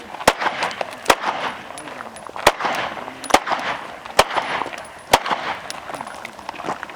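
Sharp gunshots crack out at a shooting range, about eight spaced single shots over several seconds, loud and close, with an instructor's voice talking between them.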